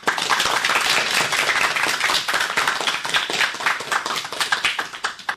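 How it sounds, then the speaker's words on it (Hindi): Children at a school cultural program clapping together, a dense, steady round of applause that carries on for several seconds and fades slightly toward the end, with no talking over it. "ये जो तालियां बज रही हैं ना बच्चों"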